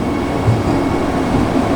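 A Vande Bharat Express train running, heard as a loud continuous rumble and rolling roar of wheels and car noise, steady and close with no voices.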